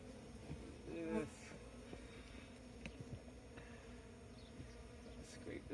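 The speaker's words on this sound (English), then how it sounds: "these bees were just getting started too" Honey bees buzzing around a colony being removed: a dense, steady low drone of many wings, close and continuous, with a louder buzzing pass near the start and scraping handling sounds.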